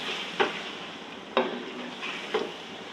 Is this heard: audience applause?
no